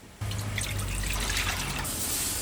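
Water trickles and splashes steadily as plant-based chicken is rinsed in a sink, a soft continuous stream with a faint hum underneath, no talking.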